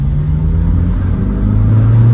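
A 1996 Chevrolet Kadett 1.8 EFI running without its air filter gives a loud, steady low engine drone from inside the car as it pulls along.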